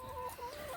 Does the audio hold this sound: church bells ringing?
no